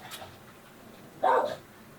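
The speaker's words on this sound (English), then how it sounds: "There goes the dog." A single muffled dog bark sounds once from a short distance, short and fairly loud against a quiet workshop room.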